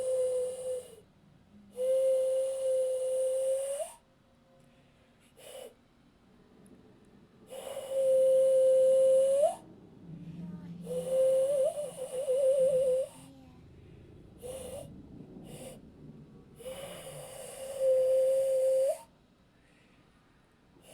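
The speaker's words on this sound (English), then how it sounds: "trying to whistle with my hands like an idiot" Someone trying to whistle through cupped hands, making repeated breathy, airy attempts. Several short, thin whistle tones come through between stretches of rushing breath and pauses.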